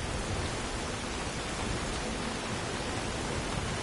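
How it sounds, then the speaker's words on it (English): Rain pours in Skyrim, an unbroken wash of hissing downpour with a slightly heavier low rumble underneath, steady and enveloping throughout, no speech. "Let's just let Charlize here get nice and wet in the rain."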